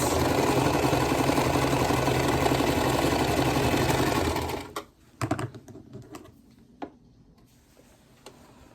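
A sewing machine runs continuously while stitching a quilt, a loud whirring drone that stops about halfway through, followed by a few scattered clicks and taps.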